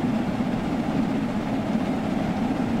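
Jubilee steam locomotive in Train Sim World 2, on the Liverpool to Crewe route: a steady low rumble and rolling drone of the train running, continuous and moderately quiet, with no talk.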